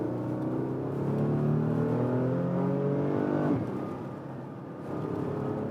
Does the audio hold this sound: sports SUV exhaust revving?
yes